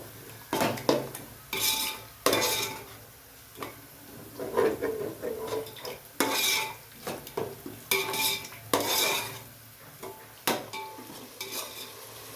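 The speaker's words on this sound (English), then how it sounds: "Now we are mixing them all well." A spoon stirs and scrapes through ghee rice ingredients mixed with curd in a pot, with repeated clinking and scraping strokes in an uneven rhythm, close and fairly quiet.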